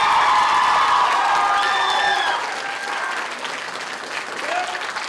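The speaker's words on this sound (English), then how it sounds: "One more round of applause for every single kid who came out of the room." An audience applauds a high school student band's chamber ensemble performance, a dense burst of clapping with some cheering and whoops that gradually thins and fades, with voices mixed in.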